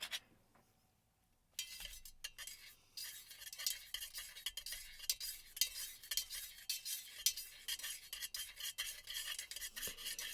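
Melted candle wax being stirred in a jar or pot, a close, quiet run of scraping and clinking strokes that starts after a brief near-silence and keeps an irregular, busy rhythm.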